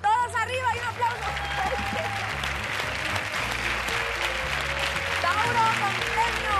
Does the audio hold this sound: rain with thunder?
no